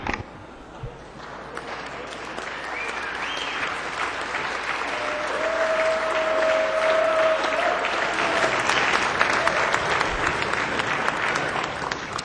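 Members on a state House floor applaud a colleague's birthday, steady broad clapping across a large chamber that builds slightly and holds for the whole stretch, with a faint murmur of voices underneath.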